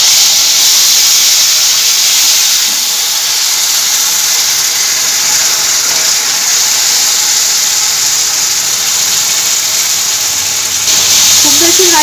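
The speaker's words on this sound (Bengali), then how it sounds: "খুব বেশি ভাজবো না, অল্প একটু ভাজবো মশলাটা।" Ground spice paste mixed with a little turmeric fries in oil in a wok, giving a loud, continuous, close hissing sizzle that holds steady for about twelve seconds.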